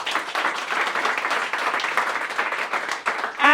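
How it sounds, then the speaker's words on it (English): Audience applause at a young speakers' public speaking competition, a steady crowd of hands clapping for several seconds, close and fairly loud, ending with a brief louder burst. "For clap for yourself, please."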